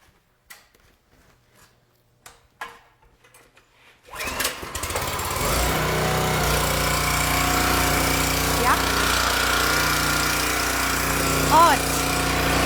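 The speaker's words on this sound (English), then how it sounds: "you're just gonna hear the sweet sounds of this log splitter for about the next minute and a half" A 27-ton log splitter's gas engine starts after a few seconds of quiet handling noises, then runs at a steady, loud, close drone, with a short whine near the end and people talking briefly.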